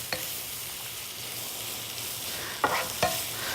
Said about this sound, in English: So we're just heating up all the ingredients here first. Nice sauteing.